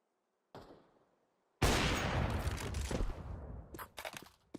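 Gunfire in the video game Counter-Strike: one short shot, then after a brief gap a loud sustained roar of firing that fades, ending in a few sharp separate cracks.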